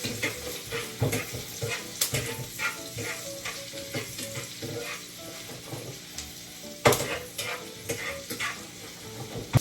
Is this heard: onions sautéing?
yes